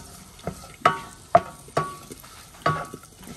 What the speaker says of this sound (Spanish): Estoy dorando chilaquiles.